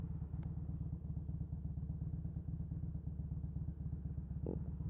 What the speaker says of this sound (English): talking while driving a motorcycle carefully and safely